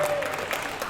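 Applause from a live concert audience, a brief wash of dense, continuous clapping heard alongside a speaking voice.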